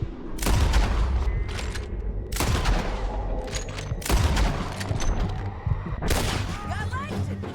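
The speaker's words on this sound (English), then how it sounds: "Let's just start shooting." Gunfire in a Red Dead Redemption 2 shootout: four heavy, close volleys of overlapping shots roughly every two seconds, with scattered lighter reports and voices in between.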